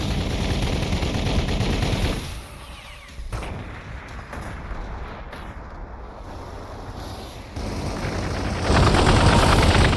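Bolter gunfire in the strategy video game Warhammer 40K Gladius, dense rapid bursts of firing and booms that dip briefly then build back into a loud continuous barrage.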